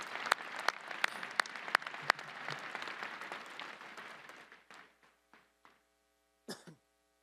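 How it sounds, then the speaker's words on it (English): A commencement audience applauds after the address, with dense clapping and a few sharp, louder claps standing out. It tapers into scattered claps, then silence, with a brief cough or throat-clear near the end. "Let's give her another round of applause for that inspirational address."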